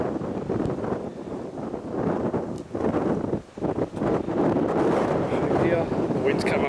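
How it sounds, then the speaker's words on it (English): Strong wind gusting outdoors at an Aboriginal rock carving site, buffeting the microphone with loud, continuous rushing roar that dips briefly and surges back, close and dominant throughout. "Wind's come up now, really it's getting stronger and stronger the longer we're here"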